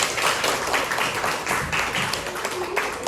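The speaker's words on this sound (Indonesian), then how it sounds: "kita beri tepuk tangan untuk kelompok 2" Classroom group clapping for the second discussion group after a lesson greeting, a steady patter of many hands close by, fairly even and moderately loud throughout.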